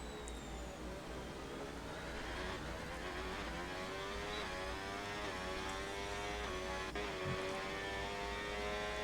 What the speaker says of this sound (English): it just sounds like traction control on the onboard